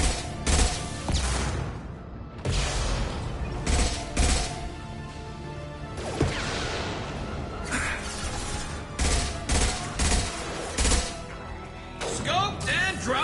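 Gunfire in the Mass Effect video game, rapid bursts of shots and heavy impacts repeating throughout amid loud action and booms, without a break.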